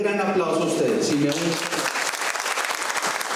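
Enthusiastic clapping from a crowd swells and continues steadily, loud and dense, with a voice audible at the start.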